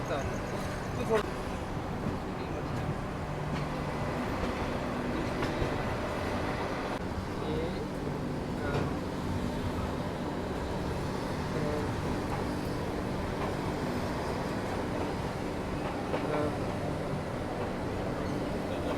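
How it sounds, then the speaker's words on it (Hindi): An Indian Railways Kashi Vishwanath Express runs at speed, heard from inside an AC 2-tier coach as a steady low rumble and hum with faint rattles throughout, a voice talking over it. "हमारी ट्रेन लगातार अच्छी स्पीड मेंटेन करके चल रही है।"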